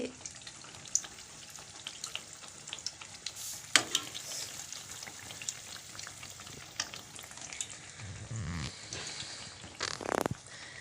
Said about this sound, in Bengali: পিঠে হইতেছে, পিঠে, ভাজা পিঠে।